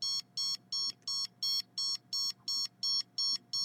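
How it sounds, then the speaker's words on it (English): An electronic radiation detector meter sounds its alarm as a steady run of short, shrill beeps, about three per second, repeating evenly. The beeps are clear and close in a quiet indoor room. "if it's pointed towards my body, triggers the alarm"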